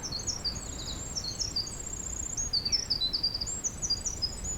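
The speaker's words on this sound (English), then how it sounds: "Birds singing out in the fog." Birds sing in fog along the Highline Trail in the Great Smoky Mountains, with many high, thin chirps and trills scattered through the clip over a steady low rumble of wind.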